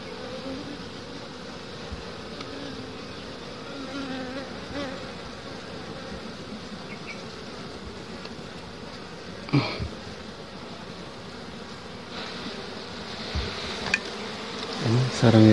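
Honey bees buzzing around their nest, a steady, close hum of many wings with occasional louder passes near the listener and faint handling noises toward the end.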